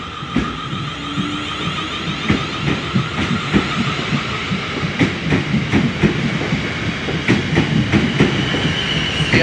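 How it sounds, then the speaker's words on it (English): A train from Alton rolls past close by at Farnham station level crossing, its wheels clattering in a steady rhythm over the rail joints, loud and continuous with no talking. "This is my train from Alton."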